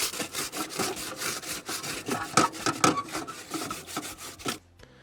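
A stainless steel heat diffuser scrubbed with a balled-up piece of aluminum foil, rapid harsh back-and-forth scraping strokes up close and loud, stopping abruptly at the end, with no talking.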